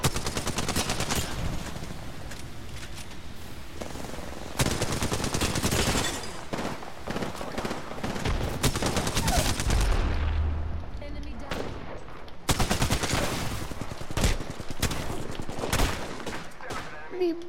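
Dense bursts of gunfire in the Apex Legends battle royale game, rapid volleys cracking repeatedly across the whole stretch with brief lulls, loud and close, while a player talks intermittently over the shooting.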